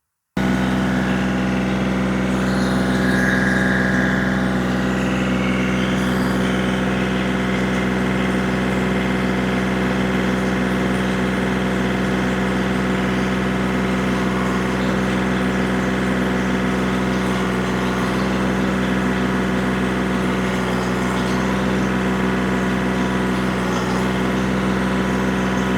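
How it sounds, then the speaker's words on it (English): A powered auger drills a fence post hole outdoors, its engine running loud and steady for the full stretch with a constant droning hum and no pauses. "we're going to use our auger to drill this"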